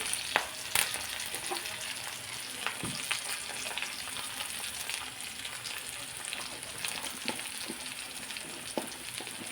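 Oil sizzling steadily in a pan while seasonings fry for a fenugreek-leaf dal, with occasional sharp pops and stirring scrapes over a constant hiss, fairly quiet and without talk.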